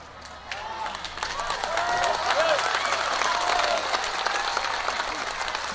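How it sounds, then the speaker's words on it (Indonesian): An audience applauding, a broad continuous roar of clapping that swells and holds steady throughout, with a few voices and cheers mixed in. "udah tepuk tangan mereka"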